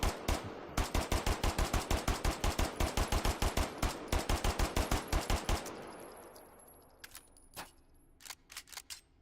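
Gunfire in a VR shooting game: a long, rapid full-auto burst of loud, sharp shots, then a pause and a scattering of single shots and short bursts, with no talking.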